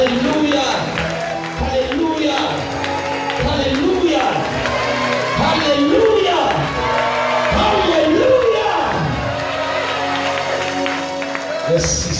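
Easter church service congregation cheering and shouting in acclamation, a dense, loud crowd roar with voices and some clapping, sustained throughout with excited calls rising over it.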